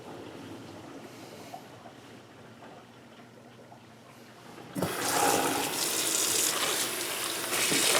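Tap water running into a sink to rinse Apple Macintosh A1048 keyboard keycaps; a quiet, drippy draining background gives way to a sudden strong, steady splashing stream that continues to the end.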